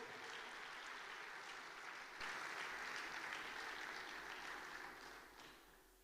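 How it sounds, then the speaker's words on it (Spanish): Steady applause from a congregation filling a church hall, loud and sustained for several seconds, swelling midway before tapering off. "dale fuerte ese aplauso"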